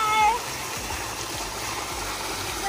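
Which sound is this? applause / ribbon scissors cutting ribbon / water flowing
water flowing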